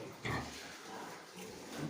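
Recently weaned French piglets grunting in a farm pen, soft close-up oinks over a low background hum with no talking.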